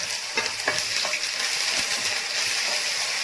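Ginger garlic paste frying in hot oil, reused from earlier frying, for a Chinese-style garlic chicken; a steady loud sizzle close up, with a few stirring scrapes over it.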